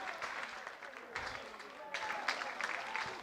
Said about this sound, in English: He's getting warm applause from the crowd and his teammates